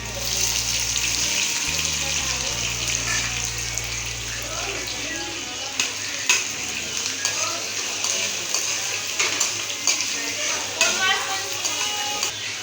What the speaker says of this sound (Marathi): तेल गरम टाकू जिरं नाही मी लसूण टाकलेला आहे अगोदर आता मी कांदा टाकून घेत आहे